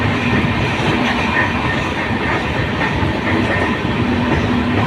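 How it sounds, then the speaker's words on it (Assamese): Passenger train running on rails, heard from inside a carriage: a steady, close rumble with continuous wheel clatter throughout, no voices. "ট্ৰেইন জাৰ্ণি খুব ভাল লাগে নহয়"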